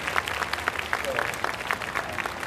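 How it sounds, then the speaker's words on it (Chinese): A crowd applauds the stall owners at a Bahamut 21st anniversary awards ceremony and prize draw, with steady clapping throughout and a voice speaking over it. "再次用最热烈的掌声感谢所有的摊主们"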